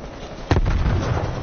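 A frag grenade goes off in a video game: one sharp blast about a third of the way in, followed by a rumbling low-end tail that lingers to the end under steady background noise.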